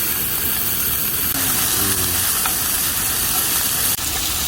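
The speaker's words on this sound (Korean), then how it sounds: "설탕을 삼겹살 위에다가 구워주는 거" Pork belly with sugar sizzles in a frying pan at a rainy campsite, a steady, close hiss of frying with a few faint clicks and light taps.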